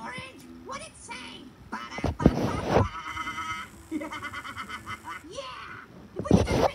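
A cartoon character's voice imitates a sheep's bleat, wavering nasal baa calls around other character voices talking back and forth, with bursts of louder speech between them.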